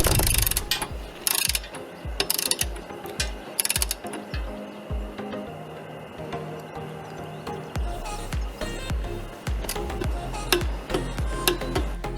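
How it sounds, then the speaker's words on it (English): A torque wrench tightening bolts on a Honda CB500X rear rack gives repeated ratcheting clicks in short bursts, close and moderately loud, with some mechanical clatter between. "And now comes the torque wrench to finalize the tightening."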